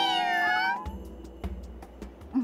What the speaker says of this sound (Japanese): 子猫がたくさんいるにゃ。